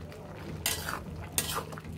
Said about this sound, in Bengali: ঢাকনাটা খুলে আবার একটু উল্টিয়ে দিব।